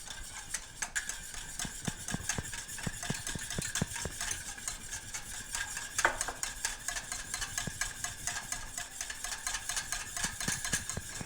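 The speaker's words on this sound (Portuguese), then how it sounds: "E aqui a gente vai batendo enquanto a manteiga derrete" A wire whisk beats cold butter into a warm pan sauce, giving a steady, close run of fast scraping and clinking strokes against the pan with no talking.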